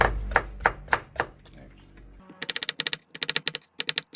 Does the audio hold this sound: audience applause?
no